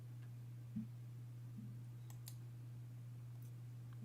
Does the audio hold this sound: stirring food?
no